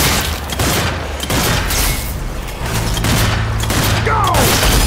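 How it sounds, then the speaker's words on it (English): Loud, dense gunfire from the zombie shooter game Zombie Army 4: Dead War, with booming shots and rapid bursts that blend into a continuous roar, along with mechanical clanks. "Shooting!"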